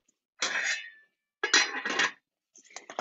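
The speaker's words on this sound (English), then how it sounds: "So now I'm just stirring all this together." Onions are stirred together in a pan in three short, scraping bursts separated by brief pauses, close and moderately quiet, with no talking.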